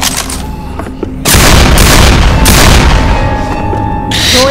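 Video game gunfire with incendiary rounds in Left 4 Dead 2: loud, dense booming shots that fill most of the clip with a heavy, continuous roar. Brief tones and game effects ring out behind it.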